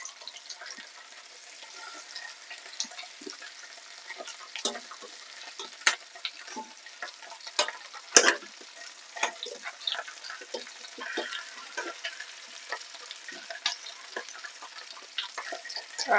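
Chicken pieces sizzle steadily in butter in a pan while being tossed and turned, a constant crackling fry punctuated by frequent scraping and stirring clatters, close and moderately loud, no talk.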